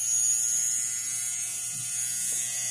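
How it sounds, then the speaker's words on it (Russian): A Hapica sonic electric toothbrush buzzes steadily at close range, a continuous high-pitched whine with no talking. "Это звуковая зубная щетка."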